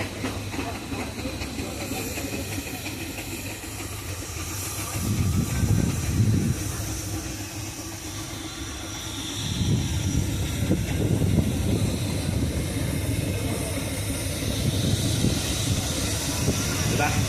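A heavy steam roller driving over grass at full speed rumbles and hisses continuously, its low engine throb rising in a couple of surges, with steady steam noise throughout.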